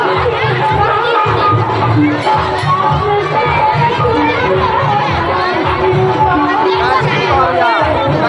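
Dense crowd chatter at a village Narak Nivaran Chaturdashi fair in Neuri, Biraul, Darbhanga, with stalls selling ber, kesaur and chowmein; loud, continuous overlapping voices and babble close around, with no pause throughout.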